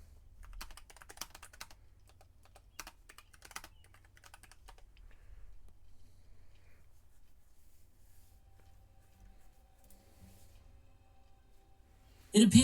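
Quiet clicking of a computer keyboard comes in scattered bursts early on, then fades to near silence before a sudden loud noise at the end.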